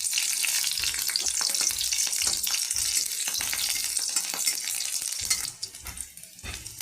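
Dried chilies and garlic fry in oil with a steady, loud crackling sizzle that fades slightly near the end.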